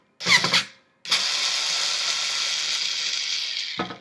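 A short whir of a power drill unscrewing a guitar's plate, a pause, then a sustained high-pitched drill whine for about three seconds before it stops.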